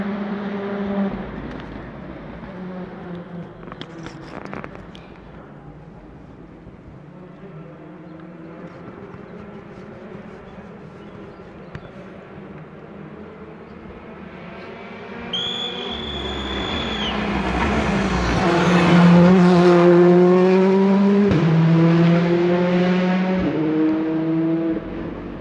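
Rally cars on a looped stage of the 2019 47th Rajd Świdnicki-Krause, engines approaching from afar and roaring past close by, revs rising and falling through gear changes, with the loudest pass near the end.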